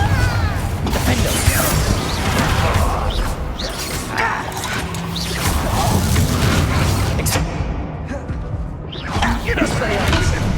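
Spell explosions from Hogwarts Legacy gameplay in a mine, with booms, mechanical clanks and crashes running throughout alongside voiced spell shouts and character speech.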